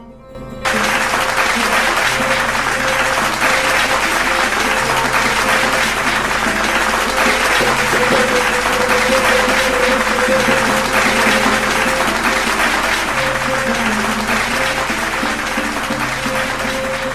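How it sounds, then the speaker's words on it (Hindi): A live audience applauds steadily and loudly to welcome a poet onto the stage at a Hindi poetry recital evening, the clapping continuous and dense throughout with no talk over it. "आपके जोरदार तालियों के बीच मंच पर आने की दावत देता हूं भाई सुशील दीक्षित विचित्र जी को।"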